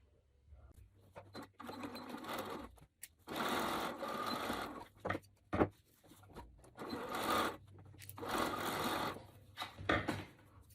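Sewing machine stitching across the slanted bottom and top edges of fabric held right sides together, running in several bursts of steady whirring separated by brief pauses, close and clear with no talk.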